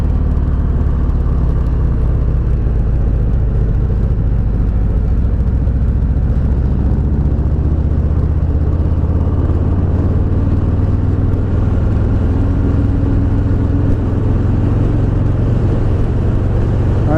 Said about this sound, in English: smooth, high pitch vibration. Yeah, that's a tire noise.